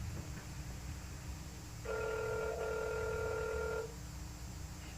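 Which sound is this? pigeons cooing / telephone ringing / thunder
telephone ringing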